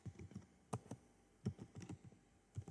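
Soft, muffled computer keyboard keystrokes as a variable name is typed in a code editor, a short uneven run of thuddy taps, close but quiet with no talking.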